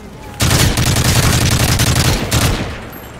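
A friendly strafe run in a Call of Duty match unleashes a loud, dense roar of rapid aerial gunfire and impacts that sustains for about two seconds before tailing off.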